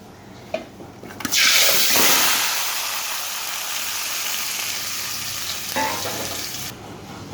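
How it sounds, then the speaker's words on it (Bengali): Fish coated in chili and turmeric powder drops into hot oil, setting off a loud, steady broadband sizzle that swells after a brief clatter and holds for several seconds before cutting off. "এখানে আমি মরিচ গুঁড়া আর হলুদ গুঁড়া নিয়ে মাছটাকে একটু ভেজে নেব"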